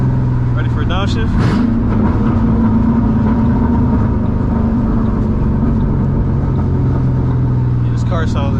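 A 2007 Ford Mustang GT downshifts on the road with a quick engine pitch swoop, then holds a steady loud drone. A voice talks over it.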